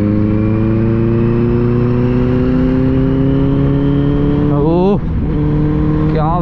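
A Suzuki Hayabusa motorcycle engine under way, a loud, steady, close droning note that climbs as the bike accelerates, then breaks briefly as it shifts gear; a man gives a short exclamation.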